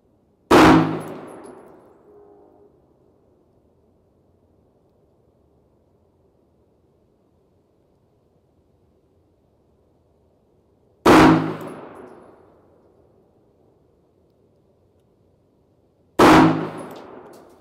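Shots from a Hi-Point C9 9mm pistol fired outdoors: three sharp, loud reports spaced far apart, each ringing and decaying into silence before the next.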